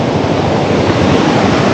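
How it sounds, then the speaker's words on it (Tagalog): Steady, loud rushing water from a river current beside a house in the forest of Quezon Province, a dense continuous roar like a strong current flowing nearby. "ang lakas ng agos"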